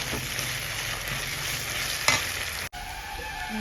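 Ginger garlic paste sizzles with fried onions in a hot pan, a steady crackling fry with a spoon scraping and stirring throughout, one sharp clink near the end.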